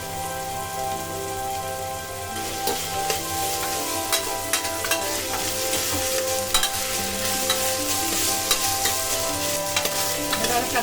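Raw tender jackfruit curry with ginger-garlic paste fries and gets stirred in a pan, village-style Maharashtrian cooking. A steady close crackling sizzle runs throughout, with scraping stir strokes from about the third second onward and no voices.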